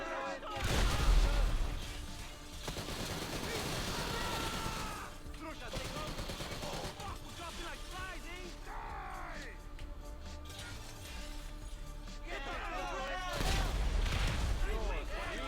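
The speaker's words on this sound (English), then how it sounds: "you see they shoot you like mad, they do" Rapid bursts of gunfire and fusillades ring out during a GTA mission, mixed with game effects and voices talking over the action throughout.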